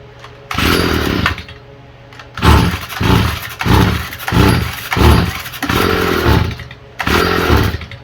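A Stihl FS45 string trimmer with a freshly adjusted carburetor revs in repeated bursts, close and loud, with the two-stroke engine rising and dropping back between blips and idling unevenly in the pauses.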